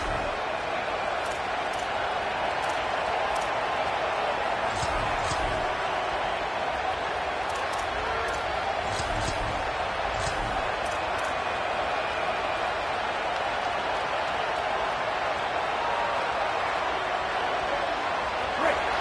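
Loud stadium crowd roaring steadily at a college football game as the defense tries for a fourth-down stop, a dense continuous wall of cheering with scattered sharper shouts and whistles over it.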